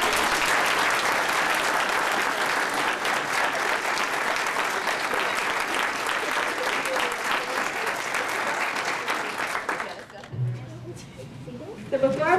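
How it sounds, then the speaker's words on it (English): A conference audience applauds speech contest champions with sustained, dense clapping for about ten seconds, then it fades as a voice starts speaking. "So let's give them one more round of applause."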